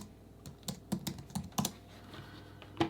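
Someone types a short word on a computer keyboard, a quiet, close burst of irregular clicks and taps with brief pauses, then a final keystroke after a gap.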